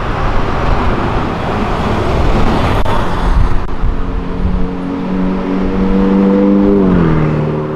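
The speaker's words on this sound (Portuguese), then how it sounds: "Acelerou, sabe dirigir um Porsche e ainda cumprimentou nós." A Porsche accelerates past amid roadway traffic, its engine rising to a strong, close rev and then swelling again over a constant hiss of passing vehicles.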